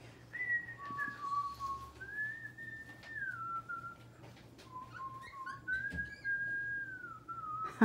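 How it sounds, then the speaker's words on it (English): A cockatoo whistles a series of clear, sliding tones with pauses between phrases, close by over a faint low background hum. "He's trying to whistle too."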